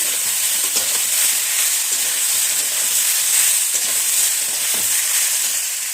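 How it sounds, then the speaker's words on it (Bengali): Boneless fish pieces stirred in a hot pan of ridge gourd curry, giving a loud continuous sizzle and hiss with scattered light scraping from the stirring. "কাটা ছাড়ানো মাছটা আমি এখনই দিয়ে দিলাম আবার একটু নেড়ে চেড়ে নিচ্ছি"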